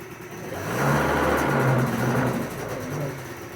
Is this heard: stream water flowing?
no